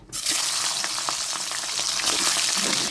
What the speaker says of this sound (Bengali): তেল গরম হয়ে গেছে কড়াই, আমি মাছের মাথাগুলো ভেজে নিচ্ছি।